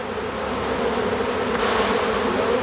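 Bees in a straw bee skep hum in a dense, steady buzzing drone, close and continuous with no voices.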